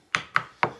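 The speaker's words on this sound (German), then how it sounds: "Dann schneiden wir die Gurke erst in Streifen, dann in Stücke" A knife chops a cucumber into pieces on a board, with three sharp, close chops evenly spaced and nothing else around them.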